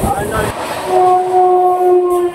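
Tamralipta Express running between Howrah and Digha, heard as a steady rumble of the carriages with a sustained whine of the moving train, fairly loud and continuous.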